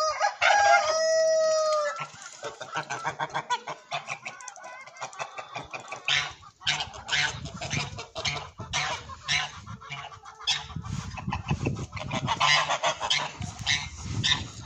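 Romanian autosexing domestic geese honk loudly and repeatedly at close range, a noisy flock calling in overlapping bursts with cackling throughout.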